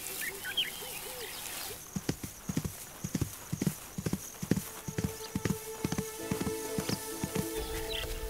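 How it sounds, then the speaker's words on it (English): A zebra's hard, sharp hooves strike in a string of quick thuds and clops at moderate distance, while faint bird calls sound in the background. "A kick from the hard, sharp hooves of a zebra can be fatal."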